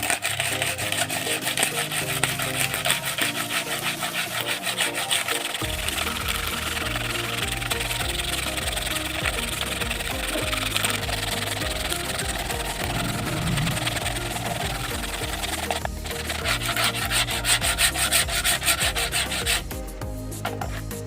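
Continuous rasping of a file scraping saw marks off a wooden boat propeller, steady and close, with a low engine-like rumble underneath throughout.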